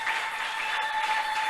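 A church congregation applauding to acclaim God during a thanksgiving service, a steady, fairly loud wash of clapping that fills the short moment with no break.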